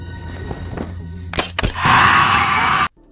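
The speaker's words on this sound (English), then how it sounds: "But the illusion shatters when Sam inadvertently knocks over a mirror." A mirror is knocked over and shatters: a couple of sharp thuds are followed by a bright, sustained crash of breaking glass that lasts about a second and then cuts off abruptly.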